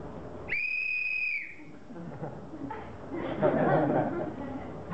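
A single sharp whistle blast, held for about a second, from a comedian on stage at a comedy semi-final, followed by audience murmuring and chatter.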